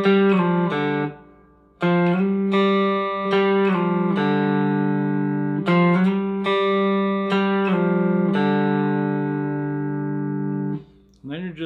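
A cigar box guitar plays a short riff of plucked, ringing notes with sliding pitch changes and brief pauses between phrases, close and clear with no talking.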